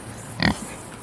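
A Kunekune pig on a farm gives a single short, close grunt, brief and fairly loud over quiet outdoor background.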